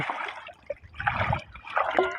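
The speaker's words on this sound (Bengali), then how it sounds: "এবার নৌকার পানিটা শেষা হবে দেখতে পাচ্ছেন" Water pours and splashes unevenly out of a sunken wooden boat that has been pulled onto land. The gushing and trickling comes in uneven surges, close by, with no voices.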